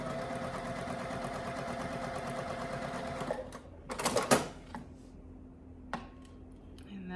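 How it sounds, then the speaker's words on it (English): A sewing machine stitching quilt pieces runs at a steady, fast mechanical rhythm for about three seconds, then stops, leaving a few soft handling clicks and rustles nearby. "And I'm going to do the flip and stitch."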